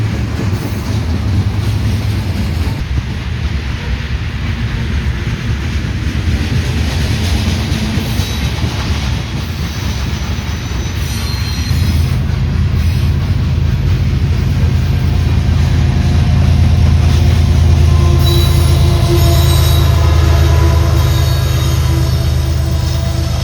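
Railroad cars rolling past at close range in a steady, loud rumble after the lead locomotive has gone by, with wheel clatter building and a faint squeal toward the end.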